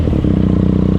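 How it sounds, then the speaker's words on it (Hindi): A Benelli TNT 300 motorcycle fitted with an Akrapovic exhaust idles with a loud, steady, close burble and rapid even pulses throughout. "ये है मेरी बाइक बेनेली TNT 300 और ये है एक्रापोइक एग्जॉस्ट मैंने लगाया है"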